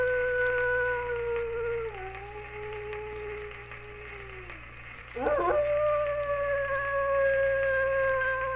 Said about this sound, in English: what caused that wolf howl?